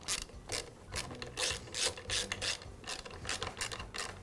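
Nuts are ratcheted down onto the studs holding the airbox of a Husqvarna leaf blower, a close, quiet run of rapid clicking pawl strokes in short repeated bursts.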